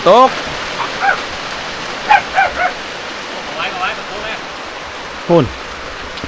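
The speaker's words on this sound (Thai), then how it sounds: "ฝนตก" Morning rain falls steadily on a rural village in Laos, an even hiss throughout, broken by a few short animal calls and yelps, and a voice is heard briefly.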